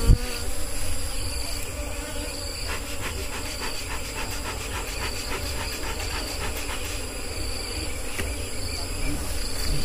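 A honeybee colony hums and buzzes densely while hives are being combined, a steady insect drone with sharper wingbeat pulses rising through the middle, close and continuous with no talk.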